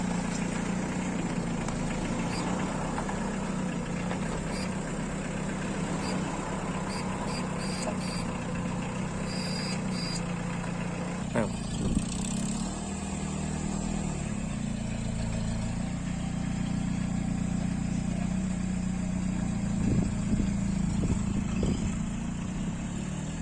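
Citroën Xantia with a 1.9 non-turbo 70-horsepower diesel engine runs with a low, steady drone and rumble, heard from inside the car at constant volume with faint rattles.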